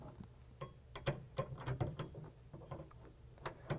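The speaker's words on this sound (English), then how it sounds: "using our provided Torx wrench, we're going to go ahead and tighten that bracket down" A Torx wrench tightening a tonneau cover bracket on a 2022 Toyota truck bed, a run of close, small clicking and ratcheting metal taps in uneven bursts.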